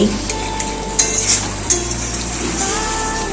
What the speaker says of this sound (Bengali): এবার ভালো করে কিছুক্ষণের জন্য কষিয়ে নিচ্ছি